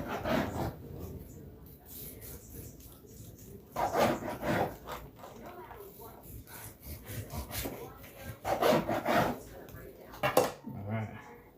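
A knife slices through smoked brisket on a cutting board, thick slices from the fattier side, giving soft scraping and thudding strokes in bursts, close and fairly quiet, with some faint talk around them.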